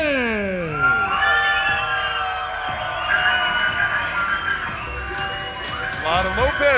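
Crowd at a kickboxing main event cheers, whoops and shrieks loudly as fighter Aaron Lopez enters the cage, sustained excited noise with high shouts and whistles, and an announcer's voice runs underneath.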